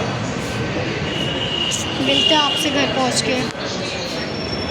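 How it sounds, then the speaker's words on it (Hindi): A metro train at Uttam Nagar metro station rumbles with a faint squeal of wheels. Someone talks over the steady rail noise. "गाइस हम उत्तम नगर मेट्रो स्टेशन पे पहुंच गए हैं"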